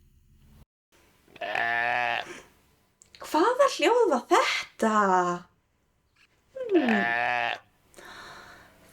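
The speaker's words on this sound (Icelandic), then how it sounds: "Þetta hljóð var kindin að jarma" Sheep bleating in three separate bursts, near and clear with wavering tremulous calls, between stretches of silence and a short spoken question in Icelandic.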